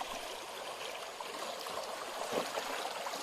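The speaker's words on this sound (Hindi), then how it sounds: "ये नदी का बहाव है।" River water flows in a steady, continuous broadband wash, moderately near, with no voices over it.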